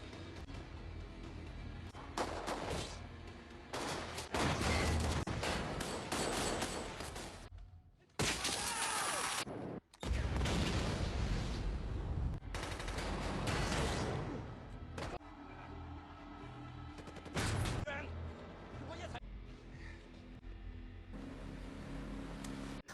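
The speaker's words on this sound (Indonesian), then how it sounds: "Di sini terjadilah baku tembak antara tim Kasar versus tim Nick." A gunfight in the hacker film Blackhat, with loud bursts of gunfire, impacts and crashes packed densely together, broken by two short near-silent gaps and followed by more blasts and debris.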